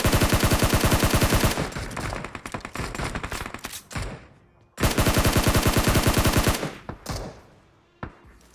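Rapid automatic gunfire in the mobile battle royale game PUBG Mobile, two long loud sustained bursts with short pauses and a few isolated shots between them, close and dominant, no talk.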